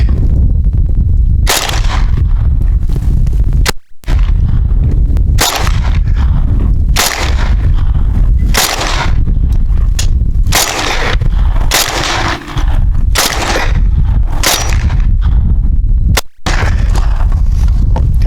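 Rapid repeated gunshots from a T97 rifle, loud and close, firing in quick succession with a few brief pauses during magazine changes, no talking.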